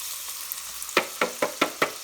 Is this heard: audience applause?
no